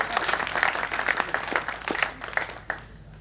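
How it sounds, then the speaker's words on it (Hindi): Audience applause at a poetry recital comes in a dense burst of clapping with some sharper individual claps, then thins and trails off toward the end. "स्वागत कीजिए, तालियां।"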